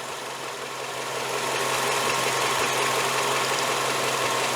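A car engine idles steadily up close, its coolant visibly degraded, giving a continuous broadband rumble with a faint knocking texture that grows slightly louder after the first second and holds even without any voices.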